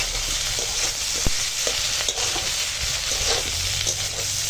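Vegetables with salt fry and get stirred in a hot pan, giving a steady close sizzle with a few scraping stir knocks, and no voices.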